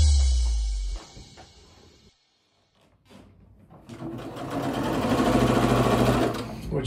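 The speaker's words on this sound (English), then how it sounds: "We're sewing. A lot of sewing." Domestic sewing machine stitching pieces for a brightly colored scrap quilt, a short whirring run that stops, a pause with light handling clicks, then a longer, louder steady buzzing stitch run, close up with no talk.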